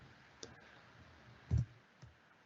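A computer mouse clicks a few times during a Power Apps forms webinar, with faint isolated clicks and one louder click, quiet and alone.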